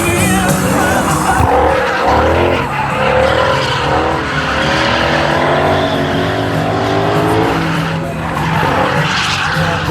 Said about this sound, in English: Ford's over here doing donuts and drifting GT500s